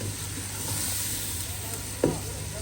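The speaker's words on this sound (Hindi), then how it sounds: "टमाटर और मिर्चें मैंने डाल दी हैं।" Tomatoes and chilies frying in a pan give a steady, close hiss of sizzling oil, broken by a brief clatter near the end.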